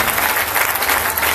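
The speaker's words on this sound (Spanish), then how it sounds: "Dale palmas a Cristo porque esta apenas comienza." A church congregation claps steadily for Christ, a dense, even wash of applause from many hands filling the room without a break.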